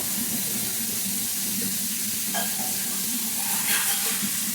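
Vegetable stalks sautéing in a pan, a continuous steady sizzle with occasional soft stirring scrapes.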